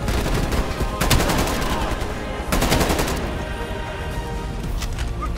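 Gunfire in Black Ops Cold War aimed at explosive barrels, sustained automatic bursts that swell into two louder volleys, loud and close, with faint voices beneath.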